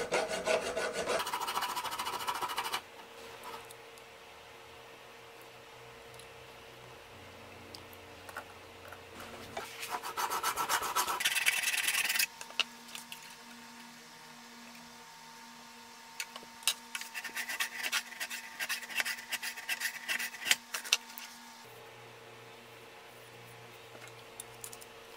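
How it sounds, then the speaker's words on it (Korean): Rasping strokes of a flat file working a thin strip of a ruler, coming in bursts with quieter pauses and a faint steady hum underneath. "평줄을 이용해서 자두께의 반을 정확하게 가공합니다."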